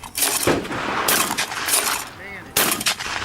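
Rapid shots from a fast-firing gun at a family shooting range, two loud bursts of sharp cracks near the start and end separated by a short lull.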